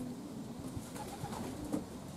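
Racing pigeons in a loft on a morning gathering day for 100 km training, with soft low cooing repeating in a steady murmur against constant background noise.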